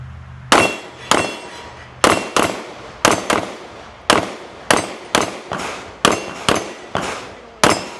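Pistol shots fired at an outdoor defensive shooting range, about thirteen sharp, loud reports in irregular strings and pairs, each ringing briefly before the next.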